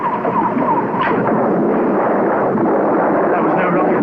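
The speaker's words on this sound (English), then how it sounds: "That was no rocket firing, that was an explosion." A dramatic explosion sound effect from a sci-fi series, a heavy booming roar that rumbles and sustains over several seconds, with voices faintly mixed in.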